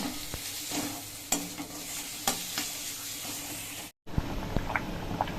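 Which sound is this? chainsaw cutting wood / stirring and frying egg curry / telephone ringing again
stirring and frying egg curry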